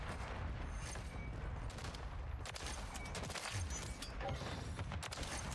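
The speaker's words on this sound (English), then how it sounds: "This FAMAS is actually shredding." FAMAS rifle fire in Call of Duty: Modern Warfare III rattles in rapid automatic bursts through dense, continuous game noise, with scattered gunshots and explosions layered throughout.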